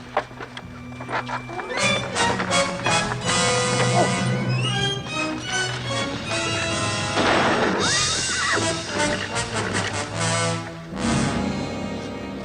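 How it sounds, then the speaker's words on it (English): A horse neighs and whinnies amid a busy, loud mix of music and commotion, with hooves clopping and voices in the background. "The horses are winded."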